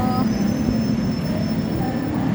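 A Bangkok BTS Skytrain pulls into an elevated station, its steady electric rumble and wheel noise loud and close, with faint tonal whines riding above the continuous rolling sound.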